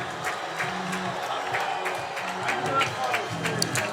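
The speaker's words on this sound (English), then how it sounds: "This Crown Point crowd," A crowd at a high school football game, Andrean at Crown Point, keeps up a steady roar of cheering and shouting that runs through the whole stretch, with a commentator talking over the noise.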